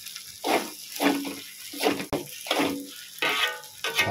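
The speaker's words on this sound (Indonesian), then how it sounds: "Dasar dia punya bunyi kuali" Kway teow noodles fry in a wok with repeated bursts of sizzling and scraping as they are stirred, fairly close, between quieter moments.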